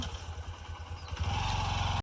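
A motorcycle engine running with a steady low chugging idle that rises into a louder, more even drone partway through, heard close outdoors without talk.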